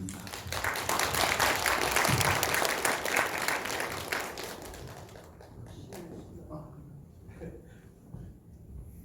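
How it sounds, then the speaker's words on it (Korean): A church congregation applauds warmly in welcome, dense clapping that swells for several seconds and then thins out and fades, with scattered claps trailing off at the end. "크게 환영의 박수를 부탁을 드립니다"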